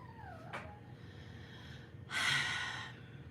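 Puppy snorting while playing, a short whining squeak then a sharp sniff, followed by a louder breathy snort-like burst, close by with no talk.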